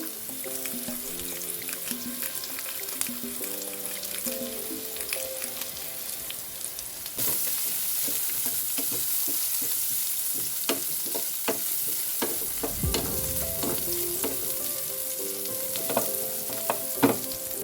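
Onion and pepper sizzling in a pan with pork liempo for a sweet and sour dish, a steady loud fry punctuated by stirring scrapes and clinks.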